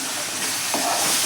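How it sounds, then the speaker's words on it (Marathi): Spice masala paste for village-style chicken sukka fries in a pan over medium gas, a brief close sizzle that swells slightly as it is stirred. "मीडियम गॅसवरती आपल्याला हा मसाला 2 ते 3 मिनिट छान असा भाजून घ्यायचा आहे"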